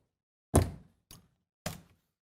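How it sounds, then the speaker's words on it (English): A door is pushed shut in a few sharp thuds, one loud knock followed by two softer ones, close and isolated with silence between. "and then you close your door"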